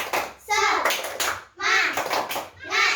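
An elementary school class does a rhythmic spirit clap (tepuk semangat), with groups of quick, sharp claps coming in about three bursts, mixed with children's voices chanting along.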